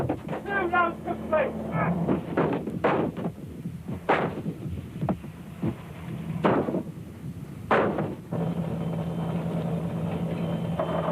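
Conventional artillery barrages in the Gulf War fire repeatedly, a handful of heavy, sharp blasts spaced a second or more apart over a constant rumbling background, with faint voices in places.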